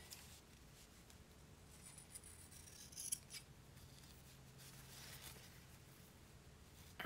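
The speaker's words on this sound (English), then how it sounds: "let me get my fabric scissors here" Fabric scissors snip through paper in an altered book journal craft, a faint, close crisp cut standing out briefly against a quiet room, with no talking.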